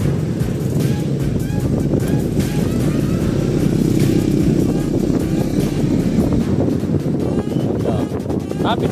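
Yadea Epoc H electric motorcycle running at top speed with a rider and passenger aboard, heard as steady wind rush and road roar that stays loud and constant throughout, with no breaks.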